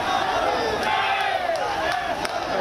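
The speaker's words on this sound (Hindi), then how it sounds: "लोग तालियां बजाते और नारे लगाते हुए पार्थिव शरीर के साथ चलते रहे" A crowd marches with a martyred army colonel's body in a funeral procession, some carrying tricolour flags. Loud massed chanting of slogans rises and falls continuously, with scattered claps.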